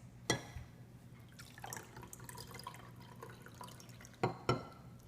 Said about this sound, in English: Watch what happens when we pour the acid into a base.